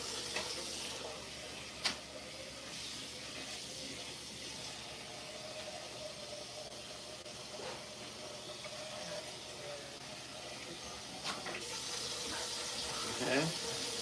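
Rice rinsed under a running kitchen tap: a quiet, continuous flow of water into a sink with a few light clinks, and faint speech in the background.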